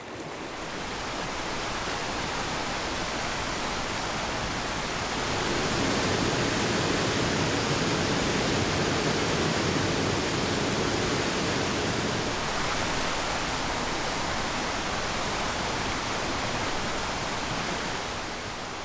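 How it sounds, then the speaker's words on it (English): Rushing waterfall in the Andean Valdivia rainforest, a dense, continuous roar of falling water that builds slightly midway and stays loud and steady throughout. "little brooks are transformed into rushing waterfalls"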